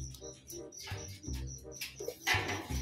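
Pigeons coo softly in short, low calls during training and pooling in Bamban, Tarlac, with faint background bustle and scattered noises nearby.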